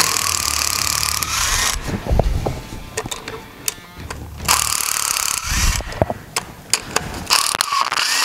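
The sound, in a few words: loosening head bolts on junkyard LS engine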